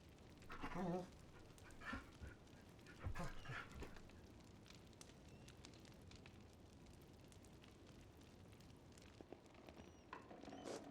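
A dog in the Pentiment video game panting in soft, repeated breaths at low volume, with a few brief louder bursts near the start and end and no voices.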